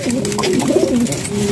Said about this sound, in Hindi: दो रंगा कबूतर है ये